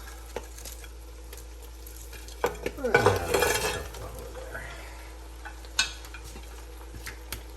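Oxtail stirred into a hot potjie pot for a Christmas oxtail potjie: a burst of sizzling and scraping in the middle, with utensil clinks against the cast iron before and after, over a quiet room.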